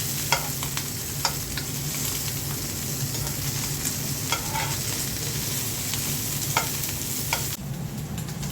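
Small fish sizzle in hot oil, a dense continuous frying hiss peppered with sharp spitting crackles throughout, loud and close, without any talking.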